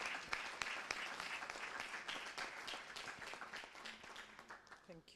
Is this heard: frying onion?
no